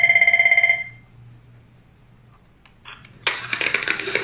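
A telephone rings for an incoming cell phone call in two loud electronic bursts, then stops. Quiet hum follows, then a few clicks and a sudden burst of loud street and construction-site noise.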